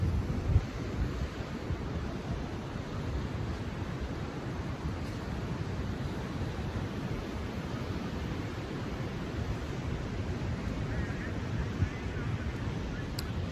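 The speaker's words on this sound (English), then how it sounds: "This awesome, beautiful ocean" Ocean waves in San Juan, Puerto Rico, making a steady broadband wash of surf with wind buffeting the microphone, continuous and fairly loud with no distinct breaks or voices.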